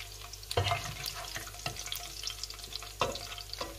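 Pork for dinuguan frying and browning in its own rendered fat in a pan, a steady close sizzle with occasional stirring clatter and scrapes, no talk.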